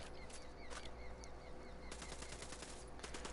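Gunfire in the Ghost Recon Wildlands video game, a steady rattle of automatic shots over a constant low rumble, with denser bursts toward the end.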